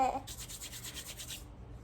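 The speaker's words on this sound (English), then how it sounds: "take your hands and rub them together real hard, and they get nice and warm" Hands rubbed together hard and fast, a quiet, close, rhythmic swishing of about eight quick strokes in a short burst, then silence.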